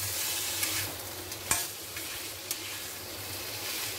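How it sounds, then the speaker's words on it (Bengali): Cucumber and spices sautéing in a pan, a steady close sizzle broken by a few sharp stirring scrapes and clinks, with no voices. "এবার আমি কামাল কাকড়িটা দিই সুন্দর ঢেকে ঢেকে মাংসের মতো আগে কষাবো"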